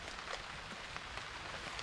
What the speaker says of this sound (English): I'm getting raindrops on me now.